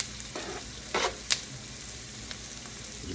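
Onions sizzle and fry steadily in a pan for smothered liver and onions, a constant crackling hiss broken by a few brief stirring clinks and scrapes.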